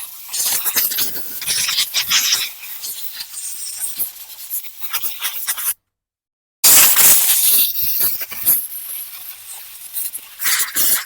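Gunk being scraped and rubbed off the flywheel of a Craftsman lawn mower, close, gritty scratching strokes that run on, break off briefly, then resume.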